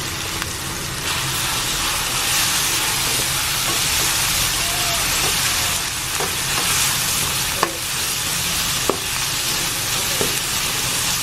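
Tomatoes and tinapa (smoked fish) flakes sauté in a pan with a steady, loud sizzle and hiss, broken by occasional scraping stirs and small clinks of the utensil.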